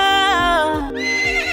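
A horse gives a loud, close whinny, one sustained trembling neigh that rises and falls in pitch, with faint low thuds beneath it.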